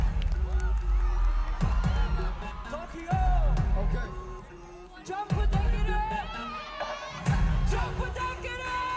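Large festival crowd cheering and yelling for a group at Summer Sonic in Tokyo, a loud sustained roar with whoops that swells in several waves, with music and talk mixed in.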